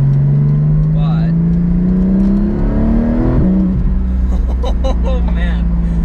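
A 2021 Porsche 718 Cayman GT4 with PDK gearbox, engine pulling loudly and steadily as it accelerates in cold weather, a continuous rising drone heard from inside the car.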